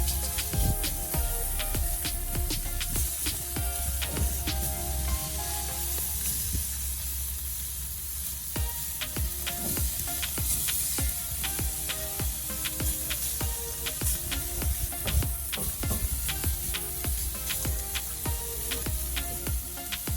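Steak for fajitas sizzling in a hot pan, a loud continuous hiss and spatter with scattered crisp pops running steadily throughout, no talking over it.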